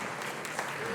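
Church congregation applauding at a high school seniors bridging celebration, a steady wash of clapping filling the whole brief moment without a break.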